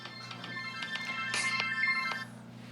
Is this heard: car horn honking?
no